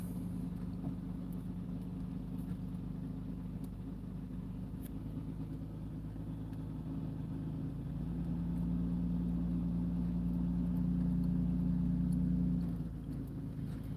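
A truck rolls slowly behind a Kubota L3901 tractor, its engine a steady low rumble that swells into a louder droning hum midway before easing back, with no talking.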